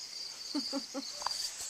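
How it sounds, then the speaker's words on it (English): Crickets chirp at night in a wooded cabin area, with a steady high insect trill running throughout and a few short pulsed chirps close by, fairly faint. "I'm just taking my life advice from the crickets tonight."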